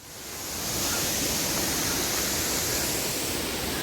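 A steady, broad roar of rushing water from Madasseri Waterfalls in Amboori, Kerala, heard up close, rising in the first second and then holding constant with no voices.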